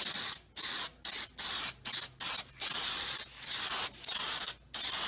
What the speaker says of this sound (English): Spraying both surfaces.